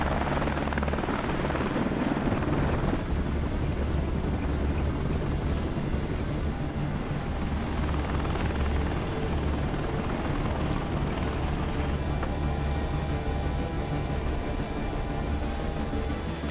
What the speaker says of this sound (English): Through the darkness, helicopters kept coming.